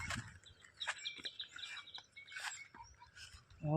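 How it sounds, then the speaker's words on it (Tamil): Faint, scattered sparrow chirps and tweets outdoors on a hill, brief calls repeating over quiet background noise. "குருவி கத்துற சவுண்டு உங்களுக்கு நல்லா கேட்கும்."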